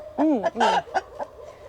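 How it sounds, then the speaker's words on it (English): Polish chickens with crested heads clucking on a woodland homestead, a quick run of three or four loud close clucks followed by fainter ones. "Little mullet chicken."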